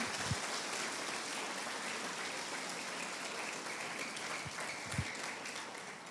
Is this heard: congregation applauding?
yes